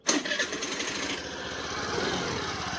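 A 2022 Suzuki Access 125 BS6 scooter engine starts with a quick burst, then settles into a steady, smooth idle close by.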